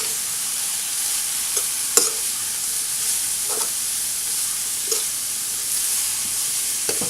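Papaya stir-fry being stirred in a hot pan, a steady sizzle and hiss with a few scraping spoon strokes at irregular intervals, close and moderately loud, no talk.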